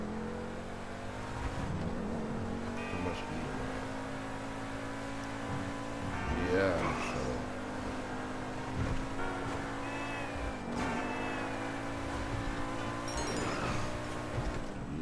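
A sports car, the Ubermacht Niobe modeled on a BMW i8, drives in GTA 5 with a steady engine drone and shifting revs, punctuated by a few surges and screeches, while someone talks briefly over it.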